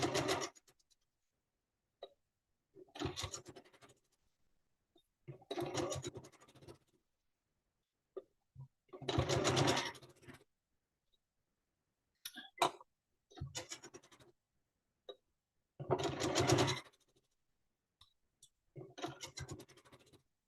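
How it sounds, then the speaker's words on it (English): A sewing machine stitches quilting fabric for a scrappy quilt, running in roughly seven short bursts of about a second each, separated by quiet pauses, with a steady close, buzzy whir during each run. "we're going to sew this one side on first"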